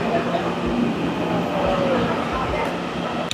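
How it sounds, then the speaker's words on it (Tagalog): A local train heading to Ruifang Station in Taiwan gives a steady rumble of rolling stock with faint wheel noise. Voices talk over it throughout. "Local train."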